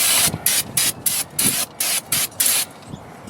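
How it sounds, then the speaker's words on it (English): Brake cleaner hisses from an aerosol can onto the front rotor of a 2001 Buick LeSabre in about seven short, loud, evenly spaced bursts, each with a bright steady spray, close up. "We're going to take and put a little more brake clean on the out half"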